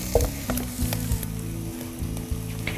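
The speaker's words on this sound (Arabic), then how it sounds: "بدنا نقلي البصلة المفرومة ناعم لحديت ما تدبل معنا" Finely chopped onion fries in olive oil for eggplant parmesan, giving a close, lively sizzle broken by several knocks and scrapes of stirring, with no voices.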